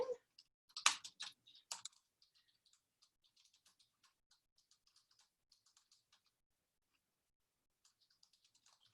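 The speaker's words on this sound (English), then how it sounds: "I'll go ahead and I'll type that in" Quiet typing on a computer keyboard during an online teacher training session: a few sharper clustered key taps at the start, then soft, sparse clicks trailing off in a nearly silent room.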